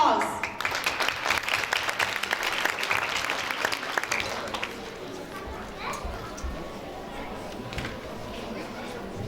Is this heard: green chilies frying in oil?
no